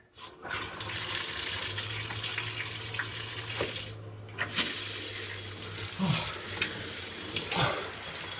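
Cold water pours steadily from a tap into a basin, a continuous splashing rush with a few brief interruptions.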